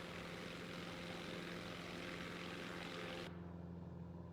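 A propeller airplane climbs out on takeoff over Boston, Massachusetts, its steady droning engine and airscrew hum loud and constant throughout, with a faint tonal change near the end.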